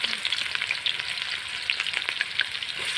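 Chopped onions fry in hot oil with a bright, close crackling sizzle and frequent popping spits, steady and unbroken for a few seconds with no talk.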